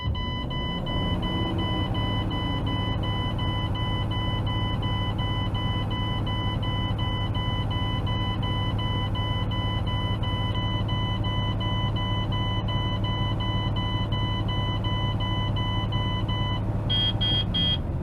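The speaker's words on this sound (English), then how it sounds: "I've reached 60 psi and my alarms have gone off" Steady in-cab truck low air pressure warning alarm sounding at 60 psi, a continuous electronic buzzer tone holding at even loudness for many seconds, with engine hum underneath.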